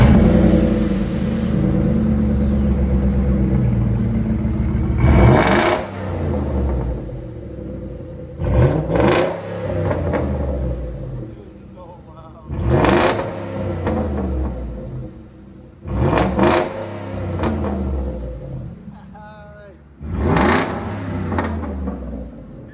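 A 2011 Ford F-150 XLT with a 5.0L V8, fitted with a Dynomax bullet side exhaust and muffler delete, blips its throttle in five loud, sharp revs over a deep, rumbling idle.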